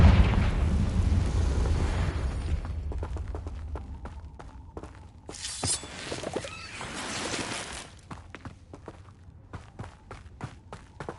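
Confringo fire spell bursting in a Hogwarts video game: a loud rumbling blast up front that fades, followed by scattered sharp impacts, crackles and a second burst, with footsteps-like clicks trailing off.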